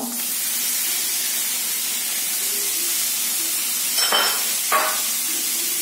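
Onions fry in a pan for paneer butter masala, a loud, steady hiss and sizzle heard close up, broken by a couple of brief stirring scrapes and no talking.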